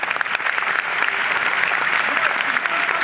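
An audience at a university orientation day in an auditorium breaks into sustained, dense clapping that holds steady for a few seconds.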